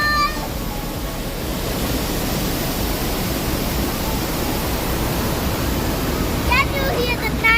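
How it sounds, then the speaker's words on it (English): Ramboda waterfall in Sri Lanka produces a dense, steady roar of falling water heard up close, with a voice talking near the start and again near the end. "It is located in Ramboda, and that is Ramboda waterfall."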